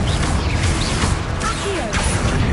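A Confringo spell blast in Hogwarts Legacy: sharp crashing impacts with swishing whooshes, loud and close, over a busy background of game noise.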